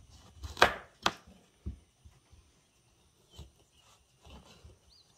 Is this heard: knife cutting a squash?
yes